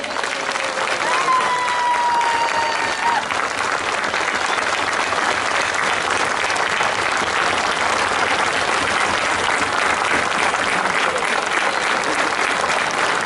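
An audience at a Macedonian concert in Delchevo applauds with sustained, dense clapping that holds steady and loud for over ten seconds, with crowd noise mixed in.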